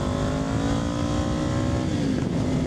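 Kawasaki Ninja 500 motorcycle exhaust with stock muffler, a continuous loud engine drone heard while riding, pitch holding then dipping briefly as revs shift near the end.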